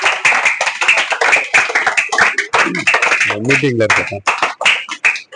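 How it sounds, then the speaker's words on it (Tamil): A crowd at a college education and social responsibility function claps for the event organizer, scattered hand claps sounding beneath a loud speaking voice that dominates throughout. "நல்லா ஒரு கைத்தட்டல் கொடுங்க"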